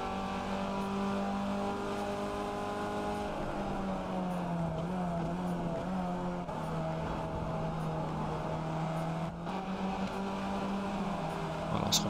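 Race car in the iRacing game accelerating, a steady close engine drone with pitch sweeps and small shifts, continuing without pause.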